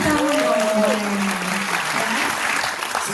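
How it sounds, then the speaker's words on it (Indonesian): A university talk-show audience bursts into steady applause, with a voice speaking over the clapping. "Tepuk tangan dong."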